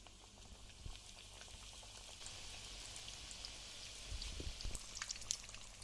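Chicken vegetable rolls fry in hot oil in a wok, giving a steady bubbling hiss that swells louder toward the end, with no speech over it.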